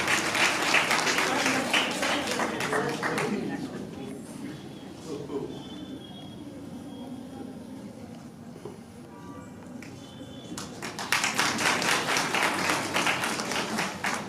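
An audience at an international seminar in a college hall claps in two bursts, with dense applause at the start and again near the end, separated by a quieter stretch of room noise and murmuring.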